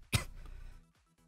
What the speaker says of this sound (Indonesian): cek batuk dulu